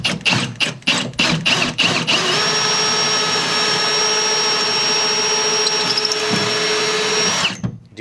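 Power drill boring through a metal pipe into wood, starting with several short bursts of whirring, then a steady high-pitched grinding run of about five seconds before stopping, close and loud.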